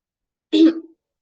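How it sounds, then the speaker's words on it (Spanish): A single short, harsh cough, close and isolated, in an otherwise silent moment. "Ay, disculpe, me voy a morir de la tos."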